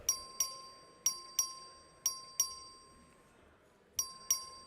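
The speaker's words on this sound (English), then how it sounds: "The clerk will ring the bell." A voting bell rung by the clerk in a state House chamber sounds a series of clear, ringing dings at irregular intervals, each fading slowly, with faint room noise between strikes.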